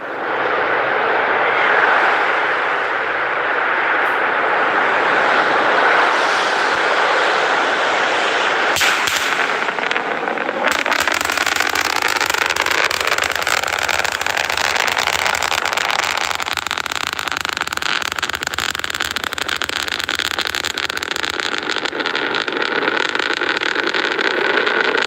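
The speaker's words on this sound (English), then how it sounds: "General impact to those in the surrounding area is that brief thunder-like noise" Thunder-like sonic boom from a SpaceX vehicle arriving overhead, a loud sustained rumbling roar that swells with a sharp crack near nine seconds, then broad roaring noise continuing to the end.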